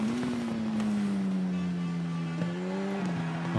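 Steady, droning superbike engine from the TT Isle of Man racing game, its pitch holding near level with slight dips as the bike is ridden through corners, running loud and continuous throughout.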